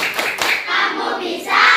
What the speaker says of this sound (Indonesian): bersama-sama kita tepuk semangat dulu